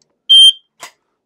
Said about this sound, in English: So it gave us a beep